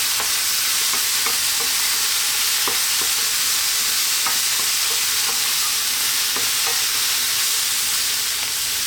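Turmeric, coriander, cumin and chili powder frying in a pan while being stirred, a loud continuous sizzling hiss with scattered scraping ticks from the spoon.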